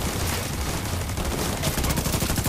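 Turret minigun firing in The Division 2, a continuous rapid rattle of automatic fire, loud and dense, swelling toward the end with a faint voice underneath.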